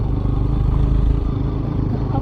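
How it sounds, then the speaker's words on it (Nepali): A scooter rides over a rough off-road track, its engine giving a loud, rattly, uneven drone with clattering and scraping through the whole short stretch, close and continuous. "मेरो स्कुटर त सर्भिसिङ गर्न पऱ्यो क्या हो कति नराम्रो साउन्ड दिएछ"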